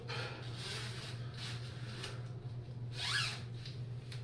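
A zipper is drawn up on clothing in a quiet room, one short rasping pull standing out faintly over a steady low hum, with no talking.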